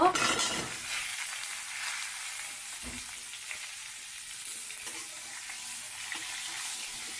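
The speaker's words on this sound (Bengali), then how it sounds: "পটলগুলো ভাজবো আলুর সাথে।" Pointed gourd hits hot oil with already browned potatoes, giving a loud sizzling burst at first that settles into a steady, softer frying hiss with occasional stirring sounds.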